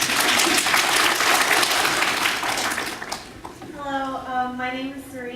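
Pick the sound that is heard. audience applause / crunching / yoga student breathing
audience applause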